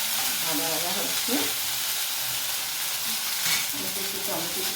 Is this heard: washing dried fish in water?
no